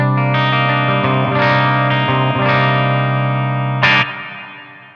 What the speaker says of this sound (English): let's go to the clean channel and let me add a little bit of reverb here for some ambience